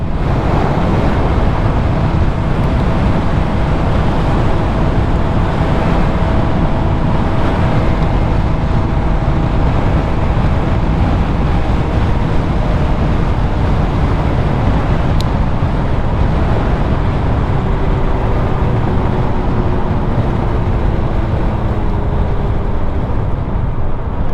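A Malaguti Phantom F12 Digit 50 LC scooter cruises at 80 km/h, well short of full throttle, under a constant loud roar of wind buffeting and road noise with no pauses.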